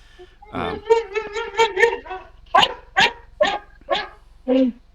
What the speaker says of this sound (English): It's my sister's dog. She's overcome with excitement when people come in and say hi.